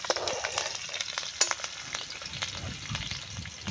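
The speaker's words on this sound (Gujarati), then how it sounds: "હું ચમચેથી હલાવું છું" Cumin seeds and green chillies sizzle in hot oil while being stirred with a spoon, a dense, steady frying crackle with scraping clicks from the spoon, close up and with no talking.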